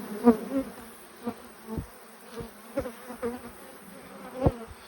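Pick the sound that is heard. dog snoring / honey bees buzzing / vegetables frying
honey bees buzzing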